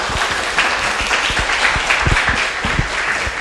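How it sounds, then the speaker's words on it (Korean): An audience applauds to welcome a guest onto the stage at a live radio show recording, a dense, steady clapping from a sizable crowd that carries on throughout. "예, 박수 부탁드립니다."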